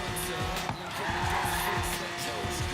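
A car drifting in the racing video game Forza Horizon 3, with a continuous engine drone and a rising and falling tire squeal, loud and close throughout.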